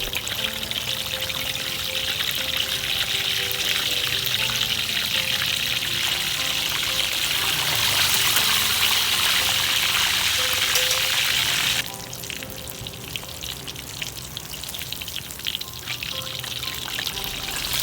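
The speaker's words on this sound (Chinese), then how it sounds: "好，差不多炸到我们的皮有点脆了，我们就翻面。" Pork belly deep fries skin-side down in moderately hot oil on its second fry, a dense continuous hiss of bubbling oil that drops slightly in level partway through and then holds steady.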